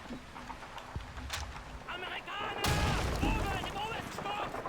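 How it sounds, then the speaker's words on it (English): A grenade explodes in Call of Duty 2 as a sudden broadband blast that rumbles on for a couple of seconds, preceded by scattered gunfire cracks, with game voices talking around it. "Okay, I'm gonna throw a grenade in there."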